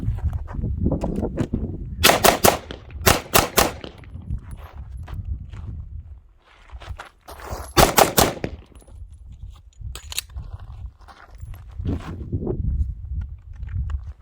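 Handgun fired at targets on a shooting range, several quick bursts of sharp loud shots in pairs and short strings separated by pauses, over a background of low rumbling noise.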